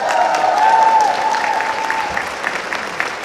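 Convention audience at the Comic Con 2019 Star Trek: Picard panel applauds steadily in a large hall, a dense wash of clapping with a few whistles and cheers over it, holding even before tapering slightly.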